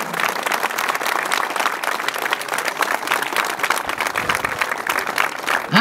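Applause from soldiers of a military unit at an army event: dense, steady clapping from a large crowd, loud and continuous throughout, with no talk over it.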